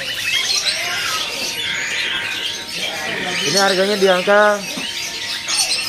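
A ciblek gunung bird at a bird-seller's kiosk chirps and squawks in short, fairly close calls, mixed in with someone talking.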